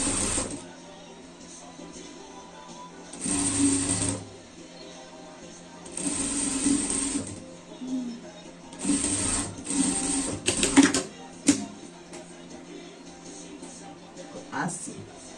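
A sewing machine stitches a bee costume for a pet in several short whirring bursts, close by, with quiet speech underneath between runs.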